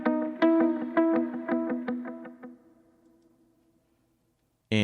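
A clean electric guitar plays a quick run of plucked notes that stop abruptly and die away dry, followed by silence and a sudden short burst.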